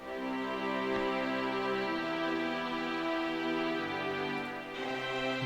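A sustained string-ensemble preset from Kontakt Session Strings plays held chords with a smooth change partway through, soft and even in an electronic progressive house arrangement, with no voices.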